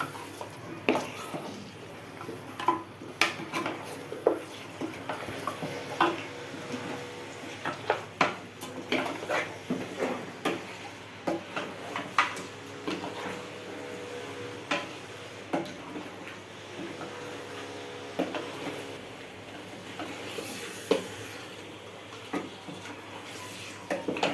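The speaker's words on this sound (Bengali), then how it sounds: "ভালো করে নাড়াচাড়া করে মিশিয়ে দেবো মশলাটা" Beef and spice masala for rezala gets stirred in a pot, with repeated spoon scrapes and metallic clinks coming in uneven bursts for over twenty seconds against a quiet kitchen background.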